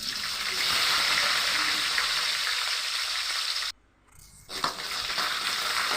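Mustard seeds, chana dal, urad dal, cumin and fenugreek frying in hot oil for a kara kulambu, a loud continuous sizzle and crackle that drops out abruptly for about a second before resuming.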